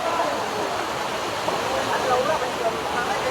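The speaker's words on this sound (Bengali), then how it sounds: "অবশেষে ওয়াটারফলসেরও দেখা মিলে গেল।" Waterfall on the Parasnath trek, people bathing in the pool below, a steady broadband rush of falling water that fills the whole clip at moderate level with no break.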